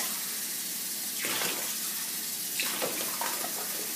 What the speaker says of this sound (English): And then I rinse out my cup just to make sure I have all the good stuff out of there.